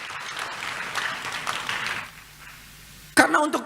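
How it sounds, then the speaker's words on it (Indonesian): A church congregation applauds for about two seconds of scattered clapping, then falls quiet before a loud voice breaks in near the end. "Tepuk tangan buat Tuhan kita Yesus."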